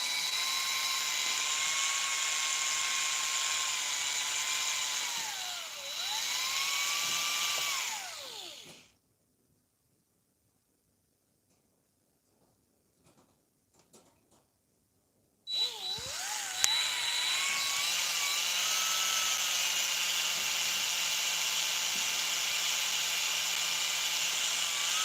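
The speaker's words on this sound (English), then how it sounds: "I think my drill is dying" A cordless drill with a dying battery whines at a steady high pitch that sags and dips, stops for several seconds of near silence, then starts up again and runs loud and continuous.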